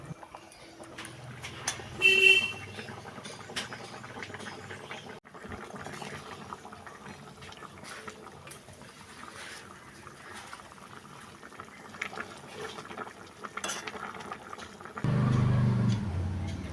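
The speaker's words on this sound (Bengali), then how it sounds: "ঝোলটা ফুটতে শুরু করলে এর মধ্যে ভেজে রাখা মাছগুলো দিয়ে দেব।" Pabda fish curry gravy with vegetables bubbling in a pan, a soft, continuous simmer with light popping, fairly faint, with a brief louder clatter early on and a heavier rush near the end.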